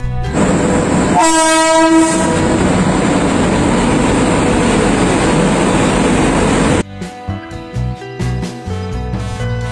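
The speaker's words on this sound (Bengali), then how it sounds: "1 নম্বর প্ল্যাটফর্মে আসতে এই ট্রেনের দেখা মিলল" The 12343 Darjeeling Mail pulls into platform 1 of a station, sounding a loud, sustained horn over a heavy rumble, then giving way to quieter rhythmic clattering of the rail cars.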